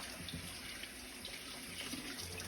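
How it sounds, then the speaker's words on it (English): Warm water runs from a kitchen tap onto a cloth during dumpling preparation, a faint, steady hiss of flow with no talking. "Get some warm water on this cloth."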